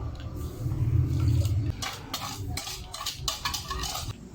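Garlic sauce thickened with cornstarch being stirred in a pan, with a utensil scraping and clinking against the metal in quick irregular strokes, close up and with no talking.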